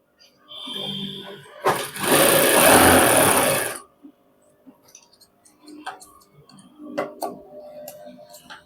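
Sewing machine stitching a double row along the folded edge of a cloth back pocket, a dense rapid run of loud mechanical ticking for about two seconds, then stopping, with scattered handling clicks of fabric after.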